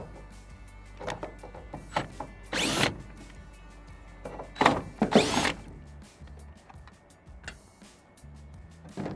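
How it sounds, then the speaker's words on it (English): Cordless power drill backing out two 5/16 taillight bolts on a Ford F150, a few short whirring bursts amid faint handling clatter and clicks, moderately close. "we're going to take our drill and just undo those really quick."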